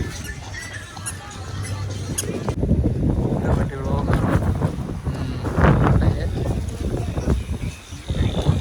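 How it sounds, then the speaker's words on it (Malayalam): Steady blustery night wind at Kanyakumari buffets the microphone throughout, with a low rumble like a boat underway and faint voices in the background. "നല്ല കാറ്റും ഇവിടെ"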